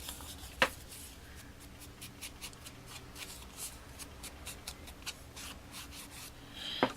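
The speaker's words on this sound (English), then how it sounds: "rub these down real good so they stick." Fingers rub firmly back and forth over tape stuck on a handmade vintage-style wallet notebook, a soft continuous scuffing, close and quiet, with a couple of sharper taps at the start and end.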